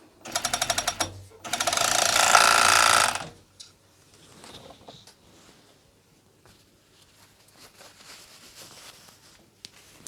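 An overlocker stitching ribbing cuffs onto a hoodie runs in a short stuttering burst, then a loud steady whirring run of about two seconds, followed by quiet fabric handling with no talking.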